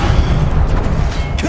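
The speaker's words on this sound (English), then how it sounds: "Stupefy!" A Stupefy spell cast in Hogwarts Legacy amid loud, dense combat, with a heavy booming blast sound and a sharp burst near the end over constant rumbling noise.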